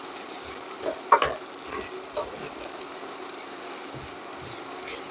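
Rigatoni stirred and coated in bacon drippings in a pan, a soft continuous sizzle broken by a few scraping stirs and clinks of the utensil, close and fairly quiet.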